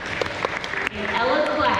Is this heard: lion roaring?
no